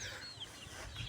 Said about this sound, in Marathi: आपल्या कोंबड्या टाक खात आहेत.